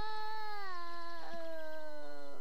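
A cartoon dog howls mournfully in a long, wavering, sliding tone that dips and then rises again, clear and fairly close with no other sound.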